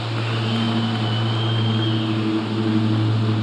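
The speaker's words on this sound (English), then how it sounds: "wait for that plane." A propeller plane passes overhead as a steady, fairly loud droning hum with a slowly shifting engine tone. It continues unbroken and is heard alone, with no talk.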